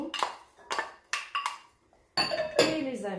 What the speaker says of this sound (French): mettre tous les légumes ensemble dans un récipient